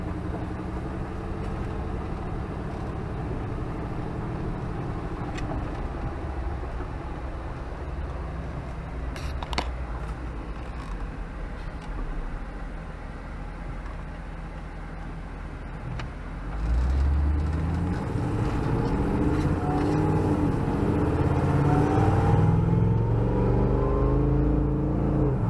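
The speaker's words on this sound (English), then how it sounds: "The exhaust in this Jeep is a little bit loud, but not bad at all when you're at cruise." Supercharged LSA-swapped 2011 Jeep Wrangler Rubicon rolling down the road, its engine and exhaust giving a steady, fairly loud drone that swells as the vehicle accelerates later on, with supercharger whine building over continuous road noise.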